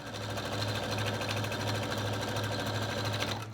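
A sewing machine joins Dresden plate quilt pieces, running in a continuous close, steady hum of rapid stitching with no pauses.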